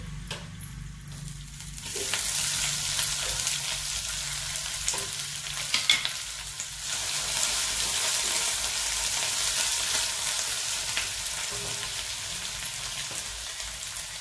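Two spoonfuls of garlic drop into a hot pan that already holds sesame seeds and start frying, first quieter, then a bright, steady sizzle with occasional crackles and stirring.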